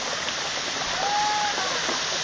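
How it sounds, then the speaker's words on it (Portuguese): A tall waterfall rushes steadily as a loud, even roar of falling water, close and continuous, with no voices over it. "Olha só essa queda d'água aqui"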